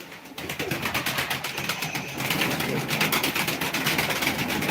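A flock of pigeons coos continuously while being fed, a dense, throbbing chorus that grows slightly louder partway through.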